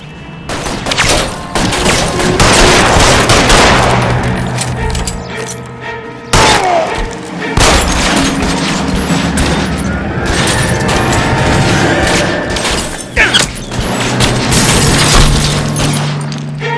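Loud bursts of gunfire in LA Noire Remaster during a shootout at Nicholson Electroplating, dense overlapping volleys with heavy booms and a sharp break midway, close and continuous.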